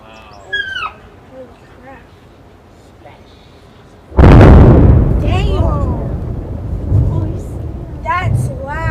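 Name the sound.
loud demolition explosion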